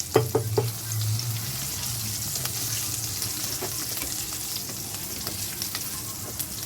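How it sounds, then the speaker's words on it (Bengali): Chopped green chili sizzling and frying in a pan for bread pakora, a steady hiss of hot oil with a few sharp clinks of a spoon stirring at the start, close and continuous with no talking. "দেবো কাঁচা লঙ্কা কুচি, দিয়ে একটু নেড়ে নেব।"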